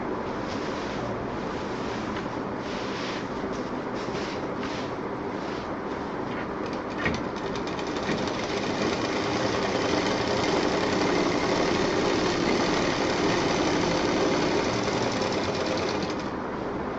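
A sewing machine stitches through three joined layers of foam inside a saree bed cover, running as one long continuous loud whirring drone, with no pauses and no talking.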